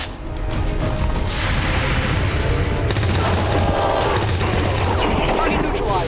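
Rapid gunfire from rookie soldiers in XCOM 2 cracks out in dense, continuous bursts over a loud rumbling battle bed, with speech mixed in throughout.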